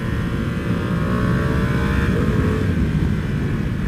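A 2021 Ducati Panigale V2 motorcycle engine roars loud and close while riding, a steady throaty drone with rising revs and wind rush throughout.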